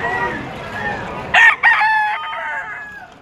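A rooster crows once at a Malabon pet market, a clear close call with a sharp middle burst, heard over quiet market background.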